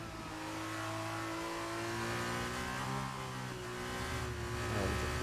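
A Formula 2 race car at Spa drops down into fourth gear through the Pouhon corner in rain, its high engine whine holding and then stepping down in pitch as it downshifts, loud and continuous.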